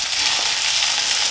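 Wild bay bolete mushrooms fry in a pan, a steady close hiss of sizzling fat with faint stirring scrapes, no voices.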